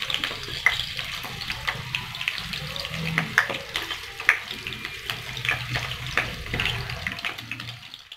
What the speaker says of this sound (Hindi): घी के अंदर हमने अपना बॉयल मटन ऐड कर दिया है, तो थोड़ा सा फ्राई करेंगे।